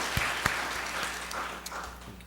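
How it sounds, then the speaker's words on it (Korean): A church congregation at an Easter service claps for its choir, producing soft, scattered applause with a few sharper individual claps standing out over a quiet, steady patter. "박수해 주세요."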